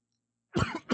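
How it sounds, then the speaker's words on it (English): A single person coughs twice up close, a harsh burst followed by a shorter second cough after a brief pause, in an otherwise quiet room. "Sorry for coughing."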